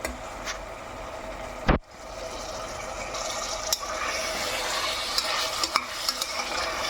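Mutton liver frying with masala in a pan: a loud, steady sizzle that grows denser after a brief thump, with occasional spatula taps over the hiss.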